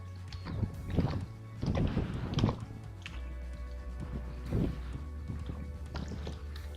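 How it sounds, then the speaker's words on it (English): Horse hooves clop on ground outdoors in strong wind, with a few irregular bursts of steps and movement fairly close, over a steady low rumble. "Oh, another horse."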